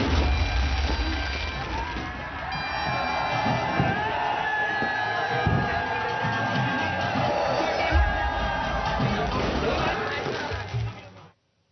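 A large crowd celebrating India's T20 World Cup win cheers and whoops continuously, with shouting voices layered over a dense roar of people throughout.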